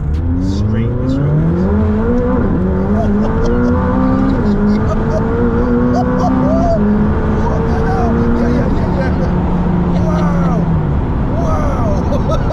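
A McLaren 600LT supercar accelerates hard from inside the cabin, its engine note climbing steadily through the gears with loud, continuous rising harmonics and brief shift dips. Excited voices talk over it.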